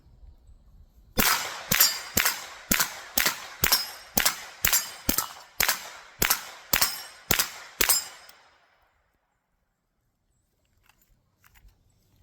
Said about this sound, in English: y'all see those steel targets? Let's just run through those steel back and forth.